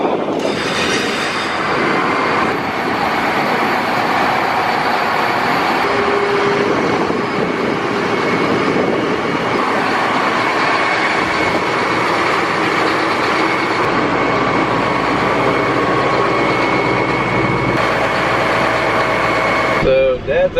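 A Gleaner combine harvester drives slowly over gravel at the start of a wheat harvest, its heavy engine droning loud and steady for the whole stretch with rumbling, rattling undertones and no break.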